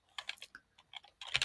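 Quick soft keystrokes on a computer keyboard, a short irregular patter of clicks, close and faint, ending in a denser burst of taps.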